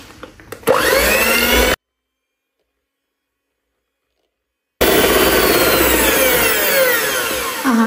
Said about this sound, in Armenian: առանձին հարում ենք, մի փոքր, մինչև դառնա փրփրուն զանգված